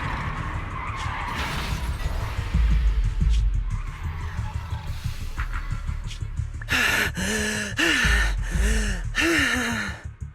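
A car swerves and skids in the video game Zenless Zone Zero, with tires squealing in several sharp bursts over engine noise, mixed with gasps and game effects.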